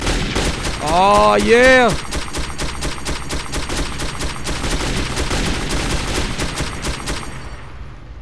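Rapid gunfire from the video game Metro 2033 runs in a dense, steady stream of sharp repeated bursts throughout, with a brief excited shout from a player partway through.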